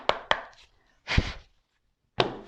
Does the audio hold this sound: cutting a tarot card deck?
yes